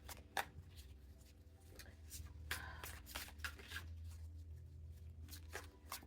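Playing cards, likely tarot or oracle cards during a reading, are shuffled repeatedly nearby, a series of crisp riffling and slapping bursts over a low background hum.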